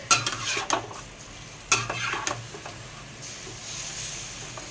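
Pork steak fries in a pan with onion and garlic, a close sizzle broken by a few bursts of stirring and clattering utensils near the start, then settling into a steady fry.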